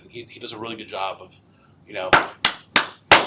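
Four sharp hand claps, close and loud and evenly spaced, follow a few spoken words from a man, as someone claps to draw a room's attention.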